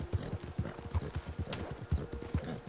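Horse hooves in the video game Red Dead Redemption 2, a steady close clip-clop of walking hoofbeats with a low game ambience underneath.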